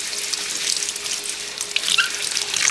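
Water runs from a tap over dyed silk yarn being rinsed with a little dish soap, a steady close splashing hiss with small gurgles and drips.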